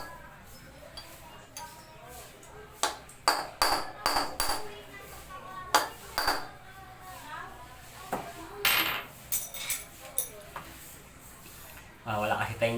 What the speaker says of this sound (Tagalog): Pupukain natin ang dahan-dahan sa gilid,